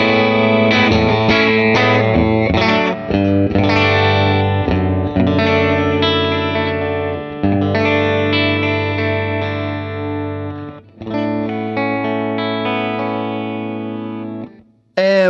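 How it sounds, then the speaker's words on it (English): Electric guitar played with a clean tone through a Vox AC15 amp on its normal channel, tone cut lowered, with pedals in the chain: ringing strummed chords and sustained notes, loud and continuous, ending in a sudden stop. "Clean tone sounds like this."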